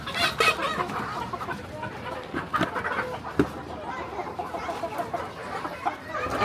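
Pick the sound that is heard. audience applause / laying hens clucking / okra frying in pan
laying hens clucking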